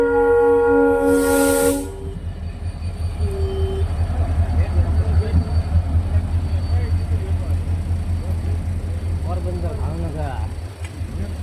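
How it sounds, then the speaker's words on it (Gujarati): A loud train horn blasts for about two seconds, then a heavy rumble of rolling rail cars continues as people talk nearby. "ટ્રેન આવે છે ટ્રેન."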